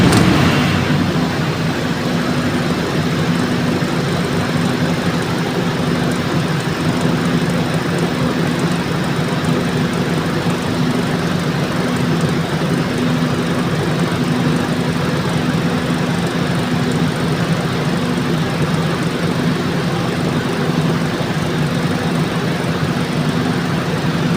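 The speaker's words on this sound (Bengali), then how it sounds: "জেনসেট নর্মালি রানিং" A diesel generator set runs steadily after a manual start, a loud continuous engine drone with a low hum that holds evenly throughout, no voices over it.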